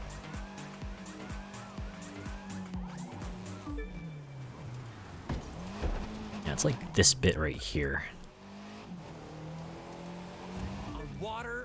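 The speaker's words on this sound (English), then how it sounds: "It's not supposed to make a screeching tire sound and spin out in place" Car tires screech and skid as the car spins out in the video game The Crew 2, with engine noise underneath and a person talking over it.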